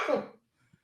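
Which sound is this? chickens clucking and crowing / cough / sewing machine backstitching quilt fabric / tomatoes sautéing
cough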